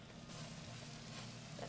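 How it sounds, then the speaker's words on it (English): A trout fillet sizzles in a very hot pan, a soft, steady hiss of frying that holds evenly throughout, quiet and close. "That sizzle."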